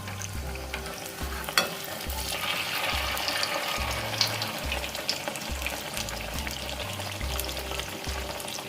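Malpua batter fries in hot oil with a steady, even sizzle and bubbling, with occasional small clicks of a utensil, close and continuous without any voices.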